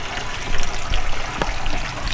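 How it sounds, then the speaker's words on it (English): Water gushing and trickling steadily into a 12V fresh water plumbing system being filled in a school bus conversion, a continuous close rushing flow with no talking. "water's coming in"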